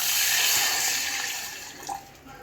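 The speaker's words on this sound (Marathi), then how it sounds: "ह्यात पाणी ॲड करते." Water poured into a pan of rajma curry with curry leaves, a short gushing splash that tapers off, followed by a faint clink.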